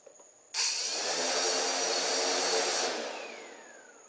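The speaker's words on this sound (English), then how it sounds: "This is my first test of the CarbonCore Y6 with a Naza flight controller" CarbonCore Y6 drone motors on a Naza flight controller spin up abruptly and hold a loud, steady buzzing whine while hovering inside a garage, then wind down and fade over the final second.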